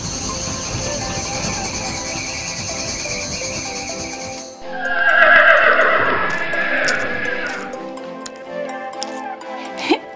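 A toy horse neighs in a long, loud whinny on a farm playset, rising then trailing off after a steady ticking background.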